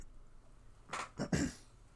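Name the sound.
throat clearing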